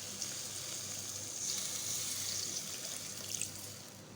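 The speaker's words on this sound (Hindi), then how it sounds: "अब हम इसमें शामिल करेंगे पानी।" Water pours steadily from a glass into a pot of meat curry with tomato and yogurt, a soft continuous splashing hiss that rises slightly midway, with no voices over it.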